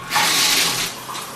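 Shower water running steadily in a bathroom at night, a continuous broad hiss of spray that swells and eases slightly over a short stretch, with no voices.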